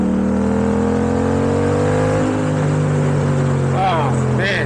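A Yamaha MT-07 motorcycle engine revs hard and accelerates up through the gears close by, its rising and falling engine tones strong over wind, with someone speaking over it.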